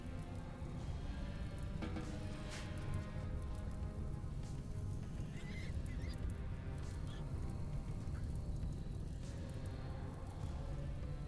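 Steady rain patters continuously on surfaces, a dense even hiss with scattered droplet ticks throughout.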